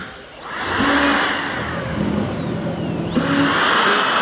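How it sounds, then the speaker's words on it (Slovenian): A new Milwaukee cordless blower spins up twice at a tool event in Rome, each time with a sharply climbing whine over a strong, close rush of air. "Pa ta nov pihalnik."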